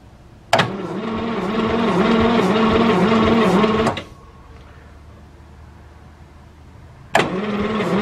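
A barn-find pre-war Talbot car engine cranks on its starter motor in two bursts, a loud, whirring, rhythmically pulsing grind of about three seconds, then a quiet pause, then cranking starts again.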